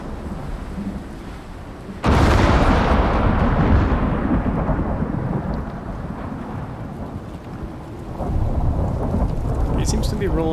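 Thunderstorm in the survival game Icarus, with a loud thunder crack that rumbles over steady heavy rain and wind, slowly fading before a second swell of storm noise near the end.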